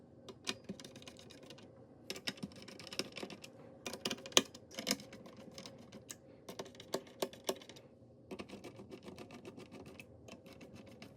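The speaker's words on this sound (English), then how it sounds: "Remove the 4 screws securing the heatsink to the motherboard" Small screws being removed from the heatsink of a Lenovo ThinkCentre M93p Tiny, faint, close clicks and scratchy metallic ticks scattered in irregular bursts over quiet background.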